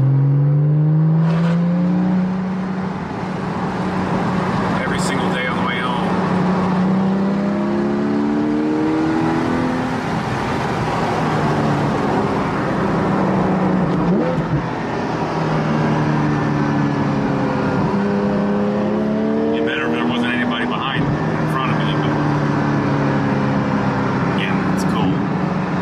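A car's engine drones steadily from inside the cabin as it travels a road, rising and falling in pitch with shifts in speed, loud and continuous with a faint whir underneath.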